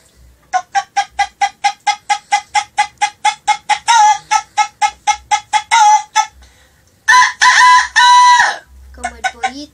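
A man imitates a hen's clucking, a fast run of about twenty even, sharp clucks followed by a louder drawn-out cackle, close and loud with no other talk.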